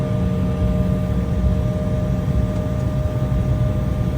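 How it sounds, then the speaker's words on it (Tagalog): An airliner just landed in North Carolina taxis along, heard from inside the cabin as a loud, steady engine roar and hum that holds constant throughout. "Pinakahuling bumaba yung aeroplano namin galing LA papuntang North Carolina."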